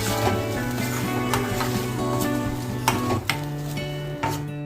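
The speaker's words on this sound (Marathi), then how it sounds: "वाटण चांगलं असं परतून घ्यायचं" Malvani ground masala paste (vatan) sautéing in a pan, soft sizzle under repeated scraping stirs and a few spoon knocks against the pan, close with no speech.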